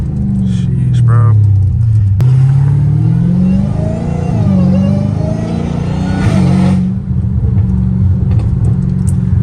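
An 800 hp supercharged Dodge Hellcat Redeye rumbles loud and close, its deep engine note swelling through sharp revs and settling back to a heavy idle-like growl.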